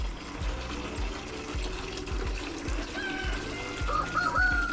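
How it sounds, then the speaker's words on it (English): Water pours and trickles into an animal waterer on a farm during morning chores, a steady faint splashing with low knocks and bird chirps in the background. "Put some water in here."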